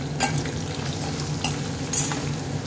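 Potato pieces fry in hot oil in a pan for a Khandeshi val bean pod vegetable dish, giving a steady close sizzle with occasional scraping spatula strokes as they are stirred.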